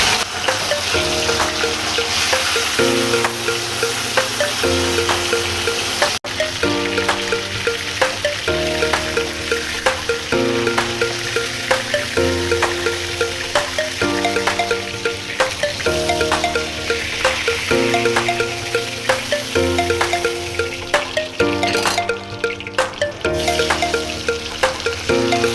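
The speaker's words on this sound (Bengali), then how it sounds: "মাছ দিয়ে দিচ্ছি" Fish frying in well-heated oil in a wok, giving a steady, loud crackling sizzle that continues throughout under repetitive background music.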